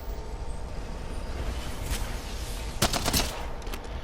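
Gunfire from a Spitfire in Apex Legends: a short, rapid cluster of shots stands out midway against a steady background hum, with a couple of fainter shots after it.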